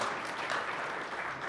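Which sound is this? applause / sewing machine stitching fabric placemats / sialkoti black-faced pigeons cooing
applause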